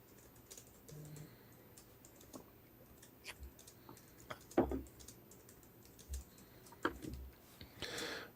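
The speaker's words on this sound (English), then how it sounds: "Well, you're already typing." Light typing on a computer keyboard sounds as scattered soft key clicks and taps at irregular intervals, fairly quiet against a low background hum, with no talking.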